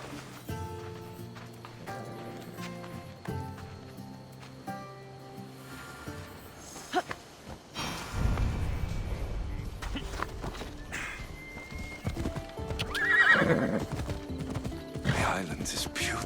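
Horses in the video game Assassin's Creed Odyssey gallop with steady, rhythmic hoofbeats that grow louder partway through, a whinny rising over them near the end, with spoken dialogue heard earlier and music underneath.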